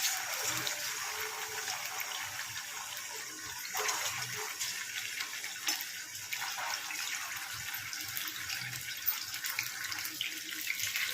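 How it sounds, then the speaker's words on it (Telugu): Marinated chicken pieces fry in a cup of hot oil over medium flame, giving a soft, steady, even hiss with faint bubbling throughout, with no voice over it. "ఇప్పుడు మ్యారినేట్ చేసుకున్న చికెన్ ముక్కల్ని ఇందులో వేసుకుందాము."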